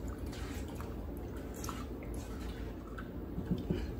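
Peaches being stirred with sugar and water in a bowl make soft, wet squishing and faint dripping sounds, quiet and close against a low background hum.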